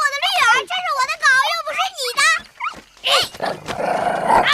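A small dog in a period Chinese drama yelps and growls loudly at close range in rapid bursts, followed by a short scuffling rustle.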